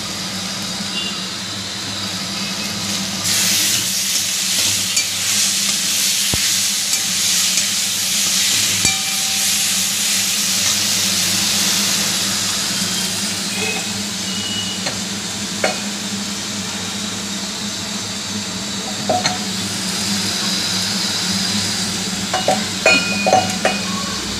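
Spices frying in oil for a thin khoira fish curry, a continuous close sizzle with occasional stirring scrapes and utensil clinks that grow busier toward the end, with no talking.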